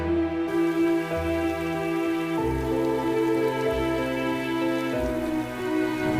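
Steady rain falls continuously, a constant hiss with soft tonal sounds underneath and no voices.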